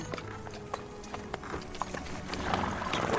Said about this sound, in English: Horse and cart.